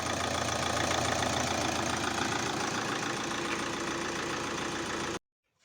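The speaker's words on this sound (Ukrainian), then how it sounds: "Завели нашу машину, мотор працює чудово, ніяких нарікань немає." An Opel Zafira car engine idles with a steady, slightly knocking rumble, close and continuous, then cuts off abruptly near the end.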